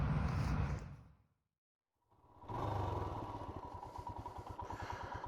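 A 2021 Royal Enfield Himalayan single-cylinder motorcycle engine rumbles, cuts out briefly to near silence, then returns with a steady thumping idle and low pulsing beat, close and moderately loud.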